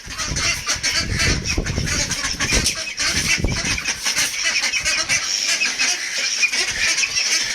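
A busy flock of ducklings and native hens, just let out, calling and honking nonstop at close range, with scattered flapping and movement.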